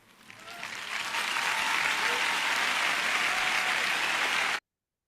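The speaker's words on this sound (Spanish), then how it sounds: "Interesante ahí cómo lo aplauden al Papa" An audience applauds the Pope at a gathering, a dense clapping that builds quickly from the start, holds steady and loud, then cuts off abruptly.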